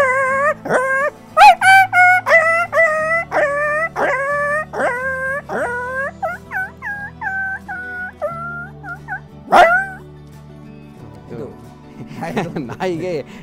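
A man vocally imitates a dog yelping and whimpering after being struck by a vehicle on the road: a loud run of sharp, repeated high yelps that trail into drawn-out, wavering whines, with a final burst of yips and another short yelp.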